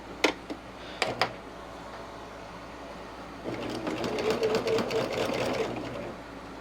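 A sewing machine stitches a quarter-inch seam in fabric for a table runner, a few clicks of setup before a steady, close, rapid mechanical whir of stitching.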